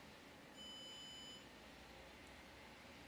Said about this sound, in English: you'll see a very low but audible beep that will allow us to know the treatment is